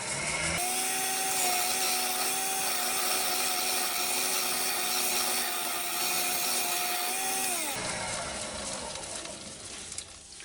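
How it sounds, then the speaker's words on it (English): A half-inch round nose scraper cutting an ash wooden bowl on a lathe, giving a steady, loud scraping whine with a constant tone that holds for several seconds before tapering off, with no talk. "Little half-inch, half-round, round nose scraper."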